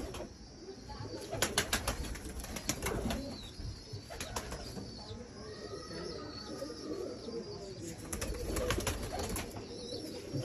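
Rare Dumchir pigeon cooing amid other birds, with low repeated coos, bursts of wing flapping and scattered chirps over a steady background.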